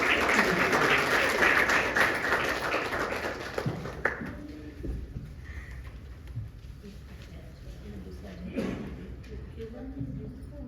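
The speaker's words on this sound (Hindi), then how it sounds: "कविता पाठ करने आ रही है डोमेश्वरी पर जोरदार ताली" Audience at a poetry reading event applauds loudly at the start, the clapping fading over several seconds into a quieter room with scattered sounds.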